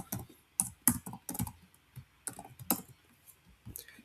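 Code being typed on a computer keyboard in a Python plotting tutorial: sparse, crisp clicking keystrokes in short bursts with pauses between, close and fairly quiet, no talking.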